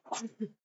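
One short, close sneeze breaks out in a sharp two-part burst and then stops.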